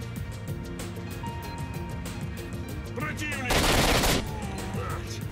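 Rapid bursts of suppressed Vintorez rifle fire in the video game Stalker crackle over a busy game soundscape with music, swelling into a louder noisy blast of action near the middle.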